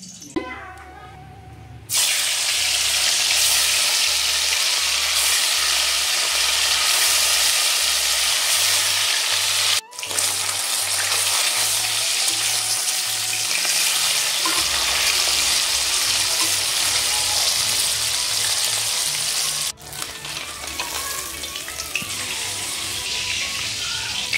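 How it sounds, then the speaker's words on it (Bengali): Cumin seeds hit hot oil for a Bengali fish curry and set off a loud, dense, unbroken sizzle. The hiss runs through the whole stretch, briefly interrupted twice, with faint low thumps underneath. "ওই তেলের মধ্যে আমি দিয়ে দিচ্ছি জিরে ফোড়ন"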